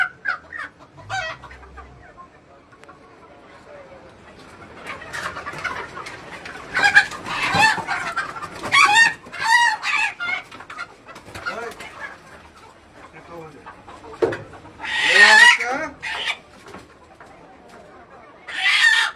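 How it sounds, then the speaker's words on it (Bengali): Domestic roosters and hens of a small backyard flock cluck and crow in bursts, some calls close and loud, others fainter, with quiet gaps between. "বড় শখের মোরগ মুরগি"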